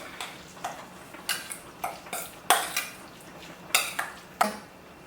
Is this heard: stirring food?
yes